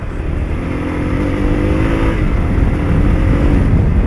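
A Yamaha Ténéré 660 trail motorcycle of about 200 kg accelerates hard, its engine note loud and close, swelling and rising in pitch as it pulls.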